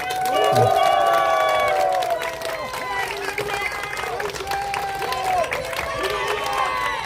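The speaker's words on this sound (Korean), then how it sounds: "다시 한번 힘차게 박수 부탁드립니다." A nighttime outdoor political rally crowd applauding and cheering, loud at first then settling into steady clapping with overlapping voices and shouts in the mix.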